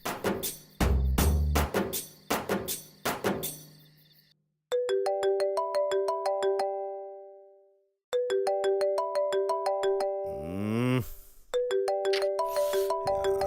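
A phone ringtone plays a bright repeating melodic pattern, pausing and starting again several times at a moderate level with no talk over it, as a late-night wake-up call rings.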